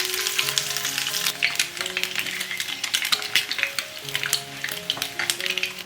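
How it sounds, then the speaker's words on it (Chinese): Eggs frying in hot oil in a wok over low heat, a steady close sizzle with scattered utensil clinks and scraping throughout, no voices. "把鸡蛋放进来先煎一会，用小火把鸡蛋煎到表面起虎皮状"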